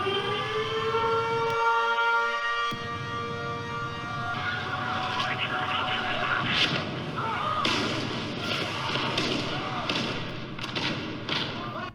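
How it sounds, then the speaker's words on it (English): An AI-generated siren sound effect, its tone gliding and wailing throughout, joined partway by dull thumps and explosion-like crackling bursts, all loud and dense. "we've got more and more explosion noises going back and forward from siren"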